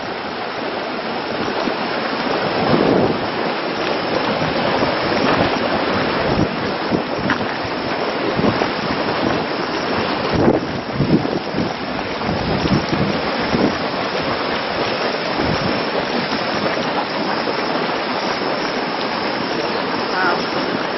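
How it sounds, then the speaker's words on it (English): Geothermal water bubbling and boiling in a volcanic valley at Waimangu, New Zealand, a loud, steady rushing hiss with surging swells throughout, no voices. "Look how many bubbles we have here."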